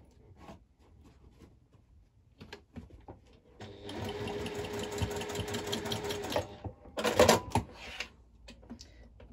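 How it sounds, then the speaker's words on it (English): Sewing machine stitching down the middle of a vinyl lid, a few soft handling sounds first, then a close, rapid mechanical stitching rattle for about three seconds, ending in a brief louder burst, no talking. "I separate the tabs and I just stitch down the middle"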